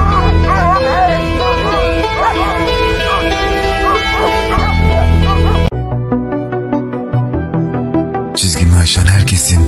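Kangal dogs bark and whimper over a steady, loud backdrop of music, one segment cutting sharply into the next, with short yips and whines recurring throughout.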